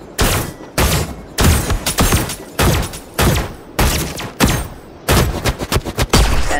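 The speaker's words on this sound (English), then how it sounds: "I do a sniper that does a ridiculous amount of damage" Loud sniper gunfire in a Roblox boss fight, seven or eight sharp shots spaced roughly a second apart, some with a quick rattling tail.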